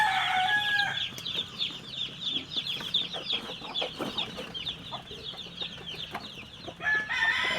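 A flock of chickens clucking and chattering close by, with busy overlapping calls and a rooster's crow near the start, continuous through the whole stretch.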